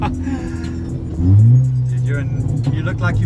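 Up close in the cabin of a modded Audi S3, the engine surges suddenly into a loud, rising pull after a quieter moment, holding a strong drone while people talk over it.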